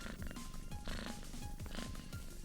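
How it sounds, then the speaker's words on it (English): A cat purr sound effect from the Unrailed video game, a quiet, rhythmic, low fluttering rumble that pulses evenly throughout. "That purr is not him. That's a sound effect."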